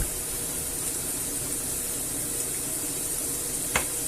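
Meatballs browning in a frying pan give a steady, even hiss of sizzling throughout, broken once by a brief clink near the end.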